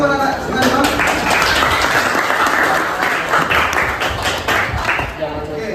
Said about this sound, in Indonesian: Ya, tepuk tangan buat anak semuanya.